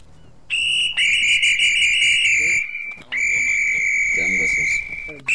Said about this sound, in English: Damn whistles.